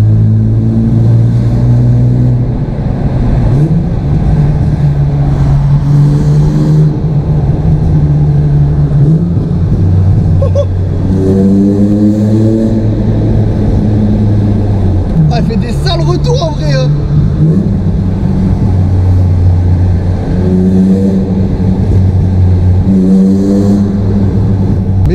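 A BMW E36 engine roars loudly inside a tunnel with the windows open, sustained drone rising and falling through revs, echoing over steady road noise with people talking throughout.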